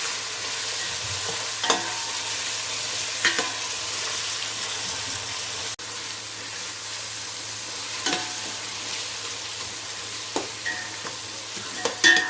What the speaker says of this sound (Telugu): పసుపు వేసాను తర్వాత బాగా కలుపుకోవాలి ఇది కొంచెం వేగాలి